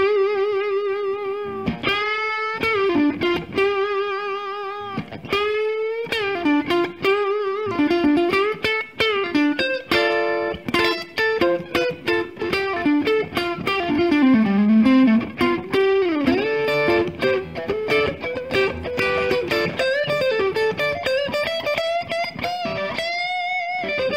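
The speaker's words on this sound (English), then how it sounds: "So this is all distortion right here." Electric guitar through Fishman Fluence pickups, heavily distorted, plays a run of sustained notes and bends with choppy rhythmic stops, loud and upfront with no talking.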